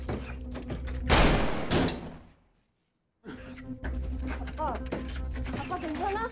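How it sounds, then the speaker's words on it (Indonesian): A sudden loud gunshot bursts out in a tense film scene where a father is shot, a sharp blast with a decaying tail that drops to silence before dramatic sound and music resume. "Ayah Ji-woo tiba-tiba ditembak saat itu juga."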